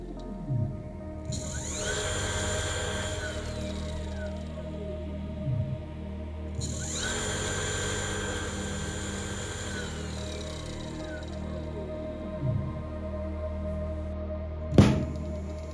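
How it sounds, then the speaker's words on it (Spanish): A car alternator converted into a brushless motor whines up to top speed twice. Each time its pitched electric tone sweeps upward and settles into a steady hum over a low drone, and a sharp knock sounds near the end. "Cuando movemos el potenciómetro, el motor comienza a acelerar. Hemos alcanzado la velocidad máxima del motor."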